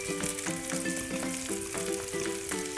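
Apple quarters sizzle and crackle in a hot pan while being turned, with soft scraping and light clinks of a utensil against the pan.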